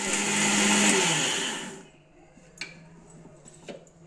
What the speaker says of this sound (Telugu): దీన్ని తీసుకొని మనం మిక్సీ వేసుకొని పేస్ట్లా